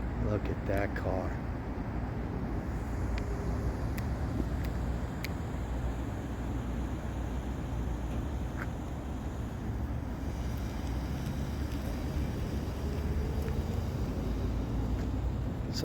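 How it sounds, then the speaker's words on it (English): A 1954 Oldsmobile 88 idles with a steady low engine and exhaust rumble close to the microphone, broken by wind noise, while someone talks over it. "I hope you love the sound of that engine as much as I do. Exhaust is killer."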